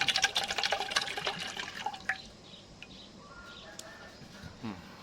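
Coconut water gushes out of a freshly opened coconut: a loud splashing burst over the first two seconds, then quieter trickling and scattered drips.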